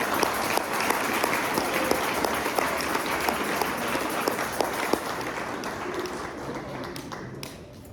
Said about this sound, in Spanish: Denle aplausos a Dios